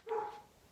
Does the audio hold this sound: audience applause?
no